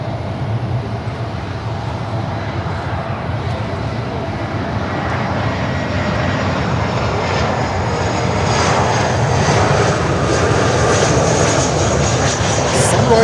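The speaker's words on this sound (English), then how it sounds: "this beautiful Lynden air cargo Hercules pulling into the ramp" Lynden Air Cargo Lockheed Hercules L382G turboprop taxiing onto an airport ramp, its engines producing a loud, steady drone with broad rumble and rising whine that grows slightly louder as the aircraft nears.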